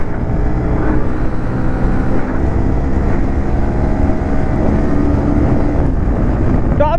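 A motorbike runs flat out at top speed on a mountain road in Sikkim, a steady loud engine drone mixed with heavy wind buffeting on the microphone, continuous for the whole stretch.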